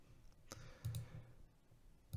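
A few faint, sharp computer mouse clicks sound in a quiet room while nodes and an icon are selected in 3D design software, one click standing out more strongly than the others.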